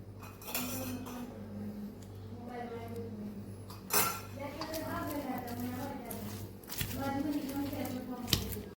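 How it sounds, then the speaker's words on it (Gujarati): Gathiya dough beaten with a spoon in a bowl after adding water, with soft squishing and clinking strokes against the bowl, close and moderately quiet, while someone talks over most of it. "આ લોટને પણ આપણે બે ચમચી પાણી ઉમેરીને ફેટી લેશું"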